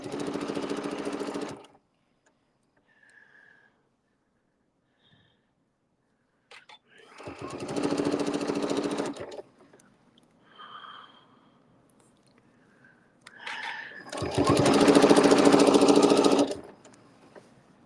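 A sewing machine stitches appliqué fabric in three separate bursts of steady rapid whirring, close and clear, with quiet pauses and soft talk between runs.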